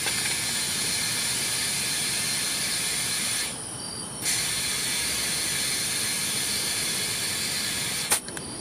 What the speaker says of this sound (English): So luckily I own my own compressor, so I have this adapter that'll connect to the tires.